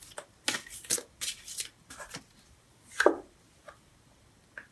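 Tarot cards shuffled and drawn during a love reading, giving a series of crisp riffling and slapping bursts, several close together early on and a sharper snap near the middle, with no talking.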